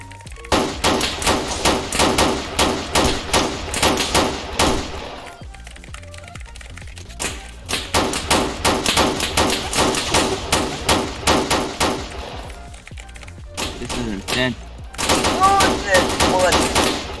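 Video game Beretta gunfire comes in rapid, loud automatic bursts separated by short pauses across the whole stretch.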